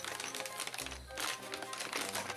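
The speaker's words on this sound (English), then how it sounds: "Little plastic noises." Plastic packaging from a Kickstarter box of miniatures crinkles and rustles close by, quiet continuous crackling with no voices.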